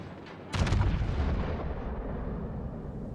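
The Yamato battleship's main guns fire in the World of Warships naval game, one sudden loud booming salvo followed by a long, heavy rumbling decay that fades slowly, with no voices.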